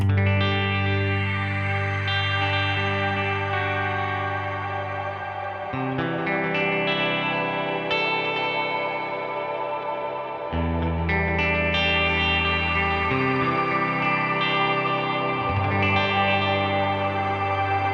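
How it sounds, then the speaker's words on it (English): Electric guitar run through a heavily wet reverb from an HX Stomp, sustained chords washing into long echoing tails with chorus-like shimmer, changing every few seconds, loud and alone without any talk. "We should hear a lot more, probably overwhelming sound of that wet reverb."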